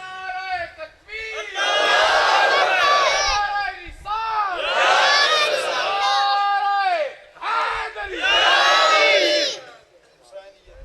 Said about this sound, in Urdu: ایسے نعرے کی آواز آنی چاہیے